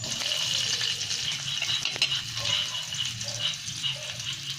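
Garlic and then onion sizzle and fry in a pan for ampalaya with salted egg, a steady close hiss with faint stirring and a soft clank partway through.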